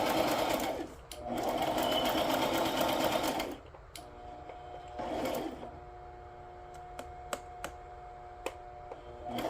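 A sewing machine runs in two close bursts as it stitches around the whole base of a project, followed by a quieter stretch with faint ticking and a few sharp clicks.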